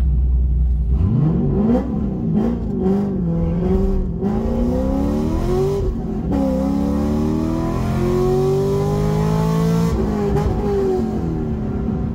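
A C6 Corvette with an LS2 V8 accelerating hard down a drag strip, its loud engine note climbing steadily through rising revs with brief drops at the gear shifts, close and continuous for about twelve seconds with no talk.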